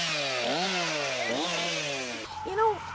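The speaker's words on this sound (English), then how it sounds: "No one said anything about chainsaws" A chainsaw runs loudly and close, its engine revving up and down in rising and falling whines, then dropping to a rougher idle near the end; talk is not clearly heard over it.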